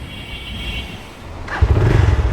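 A motorcycle rides on a road in Bangladesh, heading toward Sitakunda. The loud, close engine drones steadily and swells into a stronger, rumbling pull partway through, with no talking.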